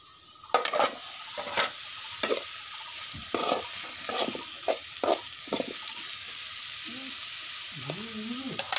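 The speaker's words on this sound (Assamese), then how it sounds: "এতিয়া এই ভাতকেৰেলা ভাজিখিনি বনাইছোঁ" Sliced bitter gourd is stir-fried in a pan, with a bright constant sizzle and repeated spatula scrapes and knocks in an irregular rhythm. A brief voice-like tone is heard toward the end.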